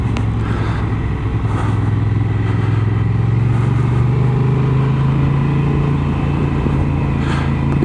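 A motorcycle riding along a seaside road, its engine droning steadily and loudly close by with a constant mid-pitched hum and wind rush, no voices over it.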